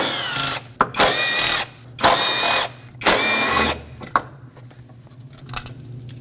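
Ratchet turning out engine bolts on a 2.5L four-cylinder Nissan Frontier during a valve cover job, heard as three bursts of close clicking about a second long each, followed by quieter scattered metal taps.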